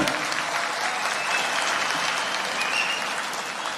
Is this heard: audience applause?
yes